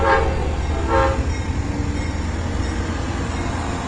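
A train rumbles past nearby on a track in Thailand, steady and loud, with a couple of brief horn-like tones at the start.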